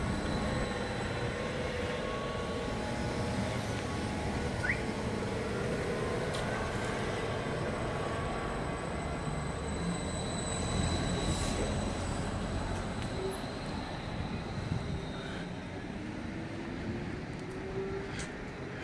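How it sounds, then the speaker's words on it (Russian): A trolleybus on route 2 approaches and rolls along an evening street in Alushta, a steady broad rumble with faint whining and squealing, fairly distant and continuous for the whole stretch, with no talking. "Это нам навстречу сейчас едет троллейбус двойка"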